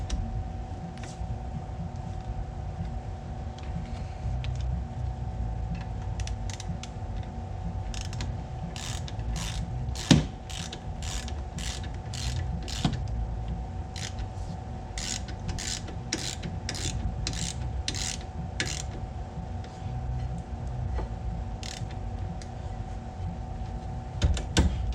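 Bolts on a Charger R/T rear brake being tightened with a ratchet wrench: bursts of rapid clicking pawl strokes over a steady mechanical hum, with a single sharp knock midway, no talking.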